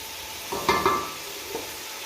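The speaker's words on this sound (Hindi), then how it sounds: "अब हम अपने मसाले को अच्छी तरह से फ्राई कर लेते हैं।" Masala spice paste with tomatoes frying in a pan, a steady moderate sizzle with a couple of brief stirring clanks and scrapes near the middle.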